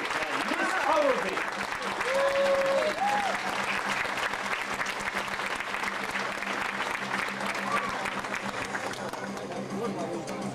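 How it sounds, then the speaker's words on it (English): An audience at a circus show applauds an act by two sisters, a long, dense burst of clapping from a large crowd, with brief vocal whoops and a voice talking over it. "Let's have a big round of applause for the surrounding sisters, Miss Cavity and Miss Cowardy"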